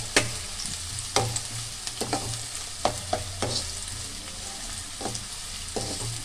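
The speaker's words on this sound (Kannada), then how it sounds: "ಎಣ್ಣೆ ಬಿಸಿ ಆದಮೇಲೆ ಚೆನ್ನಾಗಿ ಫ್ರೈ ಮಾಡ್ಕೊಳ್ಳಿ ಎಣ್ಣೆಯಲ್ಲಿ." Finely chopped onions sizzle in hot oil for a village-style chicken sambar, a steady close hiss broken by scattered sharp clicks and scrapes of a spoon stirring the pan.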